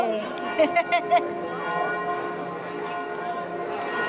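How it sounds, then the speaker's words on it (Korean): A church bell in San Gimignano, Italy, rings with several quick, closely spaced strikes near the start, and its tone then lingers and fades under faint outdoor ambience. "지금 종, 종이 치잖아."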